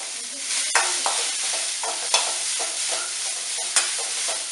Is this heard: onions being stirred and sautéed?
yes